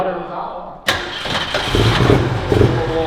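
An abandoned Ford Mustang with a faulty carburetor cranks and catches, then runs roughly at close range, with people talking over the uneven engine.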